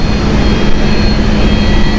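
A KLM airliner pushing back at Amsterdam Schiphol Airport gives off a loud, steady engine roar with a deep low hum, close and unbroken.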